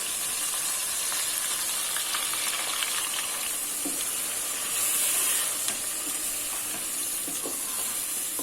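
Mutton korma simmering and sizzling in a pan of spiced meat and gravy after half a glass of water is added, a steady bubbling hiss that holds throughout at close range with no talk.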